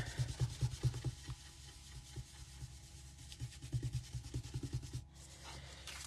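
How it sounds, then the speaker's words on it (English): Light buffing of ink color across a handmade greeting card, a soft scrubbing rub in quick repeated strokes, faint and close, coming in short bursts with brief pauses. "Just doing a little light buffing of color."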